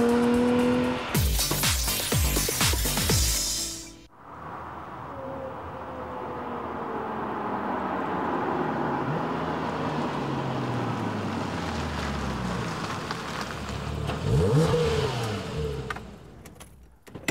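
A 2009 Porsche Boxster S engine roars past, then a long stretch of engine drone with tires squealing through bends, pitch rising and falling as it corners hard at high speed.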